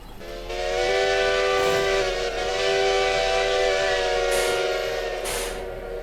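A Lima Shay Division 5 steam locomotive in a railroad game sounds a long, steady whistle over a constant rumbling chug as it gets moving, loud and close, with no voices.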